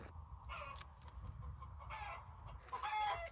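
Hens clucking and squawking inside a winter chicken coop as one lays an egg, with bursts of cackling over a low background rumble, fairly close.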